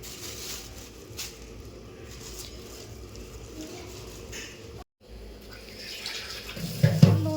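Water running from a tap while fish are washed, a soft continuous splashing trickle through most of the stretch with a brief break, then louder handling noise near the end.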